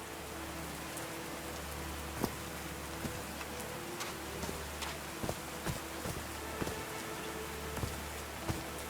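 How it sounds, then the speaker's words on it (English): Rain falls in the Call of the Sea adventure game. It makes a soft, continuous patter with scattered sharper drops ticking close by, and no one speaks. "These drops of rain are so refreshing."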